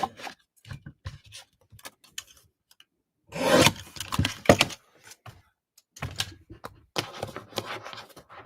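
Cardstock being trimmed for a dinosaur-themed children's birthday card, with a burst of close, scratchy cutting and rubbing sounds amid scattered small taps and handling noises, no talking.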